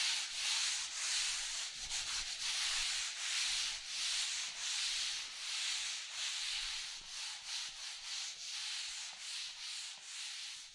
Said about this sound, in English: So we're just going to give it a light sand, get ready to go, and give it the last coat.